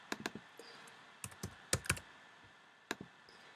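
Scattered, crisp key presses on a computer keyboard, arrow keys tapped in small clusters and single strokes during photo editing, close and quiet with no speech.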